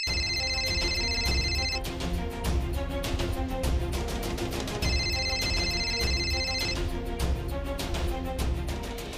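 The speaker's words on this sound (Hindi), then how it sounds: "हमें इस फोन पर फोन कौन कर रहा है?" A telephone rings in repeated electronic trill bursts, loud and close, with a pause between ring cycles.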